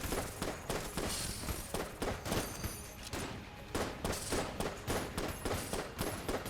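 Rapid, continuous bursts of gunfire from the Jolter gun in the Enter the Gungeon video game crackle in a dense, rhythmic stream for several seconds, with brief dips between volleys.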